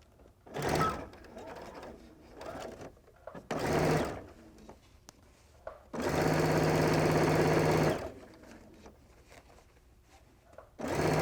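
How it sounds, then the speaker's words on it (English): A sewing machine stitches across the top of an Amy Butler Belle handbag in several short bursts with pauses between them, the longest running steadily for about two seconds. The machine is close and loud, with handling noises in the gaps. "We're going to sew from that dot to the next dot, across the top of the bag and down over to this dot"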